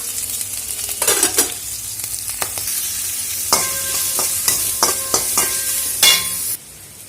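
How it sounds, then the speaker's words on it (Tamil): Onion and green chillies fry in a pan for a Tamil banana stem poriyal, a steady sizzle broken by sharp scrapes and clinks of a spoon stirring against the pan. "ஸோ பச்சை மிளகா போட்டுக்கோங்க."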